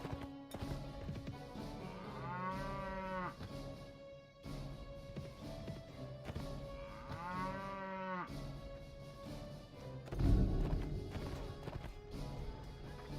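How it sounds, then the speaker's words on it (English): Cattle herd in the video game Mount & Blade Floris Expanded, two long, drawn-out moos several seconds apart over a background of hoof clip-clops and field ambience. "Cattle herd."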